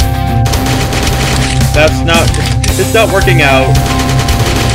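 Rapid automatic gunfire in the 2D shooter Slendytubbies 2D Revolution, a steady stream of loud shots running under a voice.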